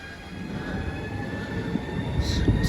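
A Southeastern passenger train to Ramsgate pulls away from Deal station, a low rumbling roll building slowly with faint high squeals from the wheels, heard from the platform at moderate distance.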